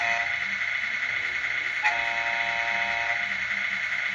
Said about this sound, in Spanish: Tiene su bocina.